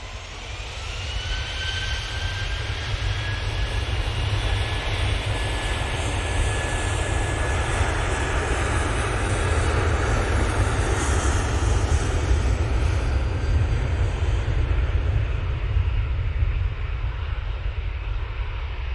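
Heavy jet airliners on approach to Heathrow roar overhead in a steady, continuous drone with a broad rumble, loud and unbroken throughout with no talk.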